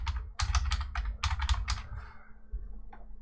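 Someone types a search into the advanced configuration on a computer keyboard, a close, loud run of rapid key clicks in a quick burst that then trails off, with one last tap after a pause.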